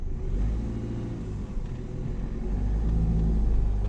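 A car engine rumbles and rises as the vehicle pulls away from a standstill during a learner's driving lesson, heard from inside the cabin, steady low drone that builds slightly toward the end, no talk.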